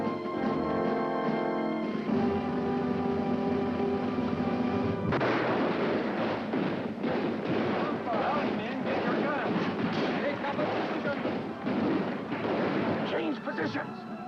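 Cannon fire from powder-charge blanks in a period film scene booms loudly, with a sustained rumbling blast and rolling echoes, preceded by a tense musical score.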